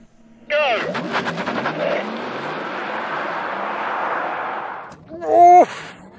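A Tesla Model S and a Porsche Taycan Turbo S launch side by side in a drag race, giving a loud, sustained electric whine and rushing roar that holds for several seconds, then a sharp shouted voice near the end.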